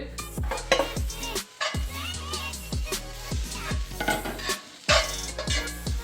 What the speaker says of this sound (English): So first we're going to saute up our meat alternative.